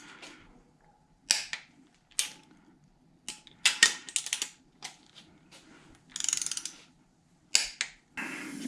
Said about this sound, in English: these we're just gonna tighten down to